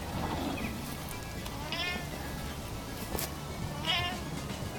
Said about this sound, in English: So there's my cat meowing and me laughing at him.